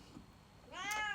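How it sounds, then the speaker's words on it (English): A pet house cat gives one short, close meow near the end, rising out of a quiet indoor room. "That's my cat."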